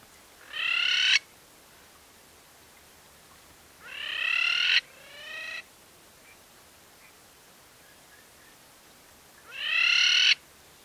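A crowned plover (crested lapwing) on safari in Meru National Park gives three loud, clear bursts of harsh, rapidly repeated calls, each about a second long, separated by quiet pauses, with a fainter shorter call between the second and third.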